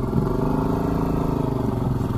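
A motorcycle engine drones steadily and loudly on a rough village road in Kedungwringin, close by and continuous throughout with a low buzzing hum and no talk.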